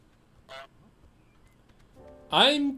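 In Untitled Goose Game, the goose gives two honks: a short, faint one first and then a louder, longer honk close up, both over quiet game background sound.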